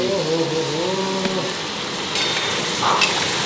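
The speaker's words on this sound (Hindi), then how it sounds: "ये तो मटन कढ़ाई बन रही है" Mutton karahi sizzling in a wok at a roadside eatery, a loud, close, continuous frying hiss with a voice briefly heard at the start.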